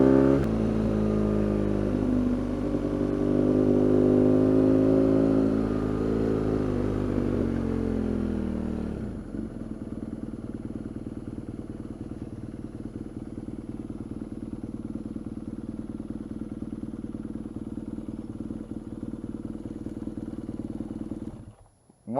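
A 2015 BMW R nineT motorcycle rides along, its boxer engine revving loud and pulling for several seconds before easing back to a steadier, lower, quieter running note that fades out at the end.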